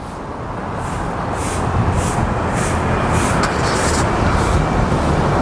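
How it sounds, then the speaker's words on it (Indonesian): A push-button SUV engine starts up and settles into a steady, fairly loud low rumble of idling with the air conditioning running, with no talking over it. "Mesin hidup, dengerin aja nih."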